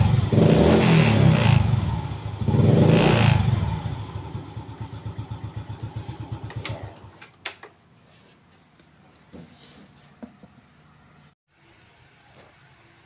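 A motorcycle fitted with a new battery starts and revs hard twice, then settles into a rapid, even idle chug before cutting out, leaving near silence with faint clicks and handling noises.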